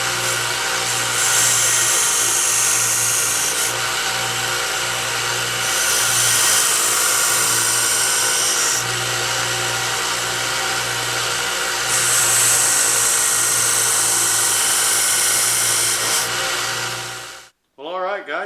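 Aluminum bolster and pommel parts for a Damascus knife being ground on a power tool, a loud continuous grinding whine that swells in repeated passes, cutting off abruptly near the end.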